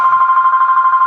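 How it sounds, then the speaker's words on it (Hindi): A telephone rings with a rapid, steady electronic trill, loud and close, with no voices. "मेरे बेटे का फोन आ गया।"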